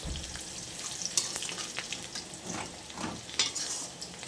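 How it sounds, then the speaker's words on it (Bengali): Chopped onions with chilli and bay leaf frying in oil in a pan, a soft steady sizzle broken by scraping stir strokes around the one- and three-and-a-half-second marks, moderately close with no talk. "পেঁয়াজ তোমরা দেখতে থাকো ভাজা ভাজা হবে তারপরে মশলা দেবে"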